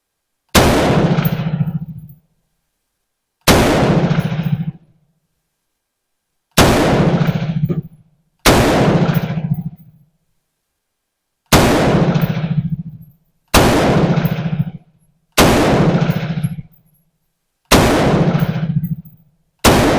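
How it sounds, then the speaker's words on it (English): An M4 rifle fires about nine loud, sharp blasts at a target, each a strong crack with a short ringing tail, spaced irregularly about two to three seconds apart with silence between. "I'm just going to do a mag dump on the middle target."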